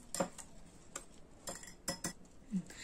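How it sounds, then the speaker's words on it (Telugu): A utensil beats eggs in a bowl for a bread omelette, making about seven irregular, light metallic clinks and taps close by, with no talking. "ఇప్పుడు దీన్ని మనం బీట్ చేసుకుందాం. కొంచెం ఫోమీగా వచ్చేటట్టు మనం బీట్ చేసుకోవాలి ఇప్పుడు దీన్ని."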